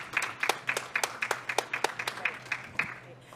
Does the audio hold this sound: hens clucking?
no